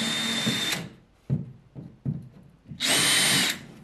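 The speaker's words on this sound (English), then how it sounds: "So now all we're gonna do is take our hammer drill." A hammer drill bores holes for an indoor camera bracket, running in a short burst, then several brief pulses, then a final longer run, loud and close with no talking.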